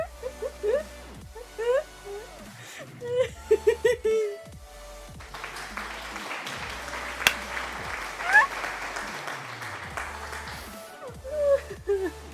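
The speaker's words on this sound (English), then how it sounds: "Applause for 500 channel points." Applause breaks out in the middle of the clip and keeps going for several seconds, with talking before it and after it.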